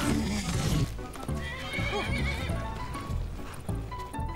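A horse in the video game Skyrim whinnies loudly amid clattering hooves and busy game sounds, the neigh rising and falling near the start over a continuous dense background.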